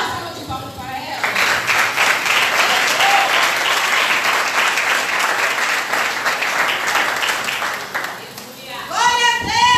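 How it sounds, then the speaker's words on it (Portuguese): A church congregation applauds in a sustained, dense round of clapping that holds steady for several seconds, with voices before and after it. "Salva de palmas para ela."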